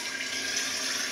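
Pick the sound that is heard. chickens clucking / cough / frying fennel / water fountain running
water fountain running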